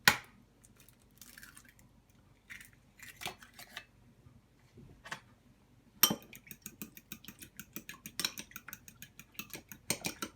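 Three eggs cracked into a manicotti filling mixture in a home kitchen, heard as a series of sharp clicks and taps, then a quick run of small clinks and splashes as they drop and are stirred in, close by.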